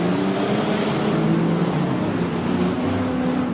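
Speedway race car engines held on the rev limiter before a restart at a season-opening meeting, a dense continuous roar of several cars droning together at steady volume throughout, with no breaks.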